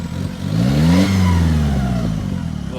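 A car engine with its exhaust missing or hanging loose revs up sharply and then falls back, a raw, loud single rev swelling and fading with no voices.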